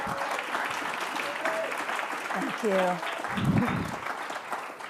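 Audience applause for a speaker at a women's leadership event, sustained clapping throughout, moderately distant, with a voice speaking briefly over it.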